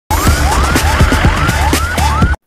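An ambulance siren in an Indian action film blares loud and close, repeating quick rising whoops about twice a second with no pause.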